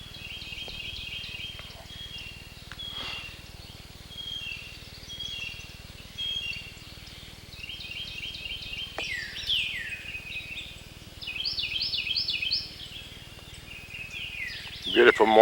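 Morning birdsong by a lake beside a road, with many chirps, trills and descending calls from several birds at mid distance, building toward the end over a low continuous background rumble, with no talking.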